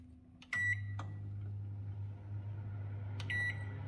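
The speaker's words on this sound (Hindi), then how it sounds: "इसको ओवन में रख देते हैं, ठीक है, और ओवन को कर देते हैं" A microwave oven runs with a steady low hum, heating bread pizza to melt the cheese, framed by short bright beeps near the start and again near the end.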